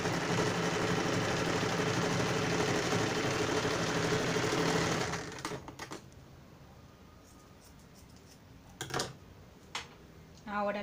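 A sewing machine stitching a seam on trousers whirs steadily and closely for about five seconds, then stops, leaving scattered clicks and fabric handling in a quiet room.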